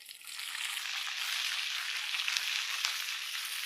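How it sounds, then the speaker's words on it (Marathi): Ajwain seeds sizzle in hot homemade ghee for a tadka in a dhaba-style paneer masala, a steady, close, bright frying crackle that holds evenly throughout with no talking. "आपण आता तुपामध्ये अजवान घालून घेऊ"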